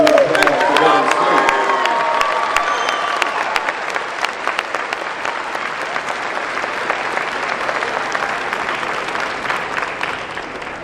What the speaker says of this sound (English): Please join me in a round of applause for W.C.